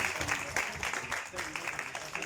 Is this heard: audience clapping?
yes